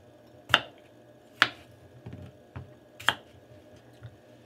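A knife chops the ends off a cucumber on a cutting board for a chef salad, three crisp, close, sharp thuds with softer taps between them, and no voice over them.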